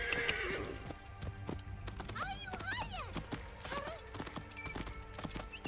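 A horse in Assassin's Creed Origins neighs in a rising whinny, followed by a run of clip-clopping hooves, with someone talking over it and game ambience behind.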